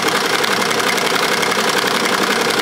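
Embroidery machine running a satin stitch at about 650–700 RPM on woolie driver head covers, a steady, dense, fast mechanical chatter at an even pace, close and moderately loud, with no talking.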